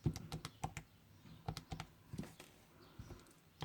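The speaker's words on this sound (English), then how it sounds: "Now we type in the number." Keys tapped on a computer keyboard while numbers are entered, a scattered, uneven run of light clicks with short pauses between bursts, fairly close and alone.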